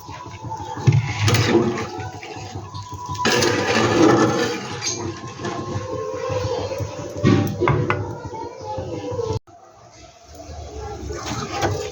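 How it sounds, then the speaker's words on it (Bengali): Water poured into a pan of spiced fish curry: a loud rushing, splashing pour over a busy background, with clatter, a brief break near the end, then a quieter gush. "এবার আমি জল দিয়ে দেবো।"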